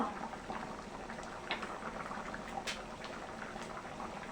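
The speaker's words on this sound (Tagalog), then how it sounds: "kumukulo na po ang munggo ko" A pot of mung beans bubbles at a steady boil, a dense, soft gurgling hiss with small pops throughout, close by and fairly quiet.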